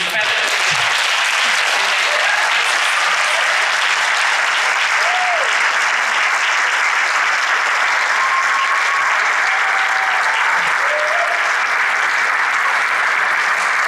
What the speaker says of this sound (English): let's give each of them a well-deserved round of applause